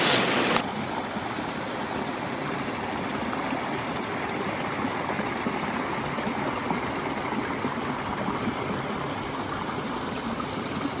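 Rushing water of a waterfall stream at Hadapan Ella, a steady broadband roar heard close and continuous without pause, with no voices over it.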